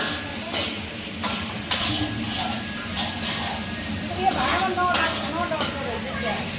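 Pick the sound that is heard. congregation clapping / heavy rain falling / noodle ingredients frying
noodle ingredients frying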